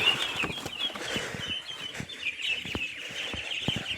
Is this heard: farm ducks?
yes